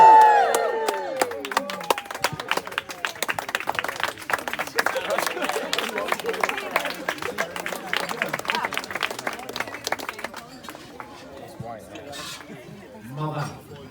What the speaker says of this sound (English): give a massive toast and a big round of applause to Nikki and Adam